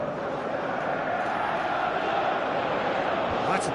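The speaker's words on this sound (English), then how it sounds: "you can hear how the crowd are reacting to this too" A large football stadium crowd produces a constant roaring wash of noise, with a swell of reaction near the end.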